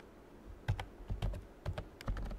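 Keystrokes on a computer keyboard while C code for an 8051 microcontroller is typed in Keil, coming in short irregular bursts of close, crisp clicks against a quiet background.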